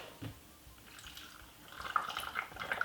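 Water poured into a blender holding lemon, apple cider vinegar and cinnamon, heard as a faint, soft trickle that grows a little fuller toward the end of the short stretch.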